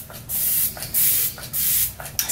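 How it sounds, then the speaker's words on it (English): Lancome Fix It Forget It makeup setting mist spritzes in four close, loud hissing bursts, each about half a second long, with brief pauses between them. "And then there's a new setting spray that I use too."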